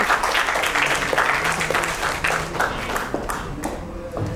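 At a women's celebrity cricket event, a crowd applauds loudly, a dense continuous clatter of many hands that fades slightly toward the end.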